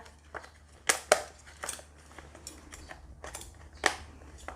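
A plastic takeaway food box lid is pressed shut over rice with holy basil seafood stir-fry and a fried egg, giving a few sharp crinkling snaps and clicks of thin plastic, close and quiet, with softer rustling between.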